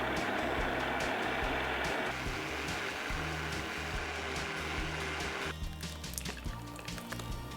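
Kitchen blender whirring as it purées sweet potato pieces with water, a loud, steady motor drone with churning texture that shifts pitch twice as the mixture thins.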